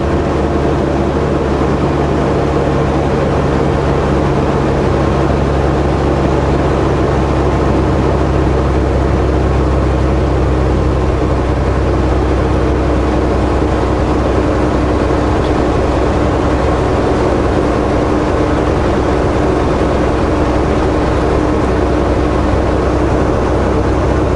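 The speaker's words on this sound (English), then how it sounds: "Twin-engine airplane. Might very well be a water bomber." A loud, steady twin-engine airplane drone hums throughout, a deep continuous roar like a propeller airplane passing overhead, near a forest fire.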